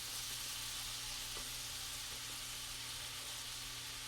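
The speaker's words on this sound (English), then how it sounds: "Melt that butter down." Butter melting in a pan gives off a soft, steady sizzle and hiss that holds evenly throughout, with a faint low hum underneath and no talking.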